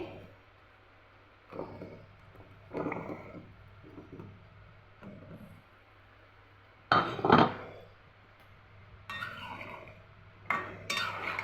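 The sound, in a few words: adding taro pieces to the pan and stirring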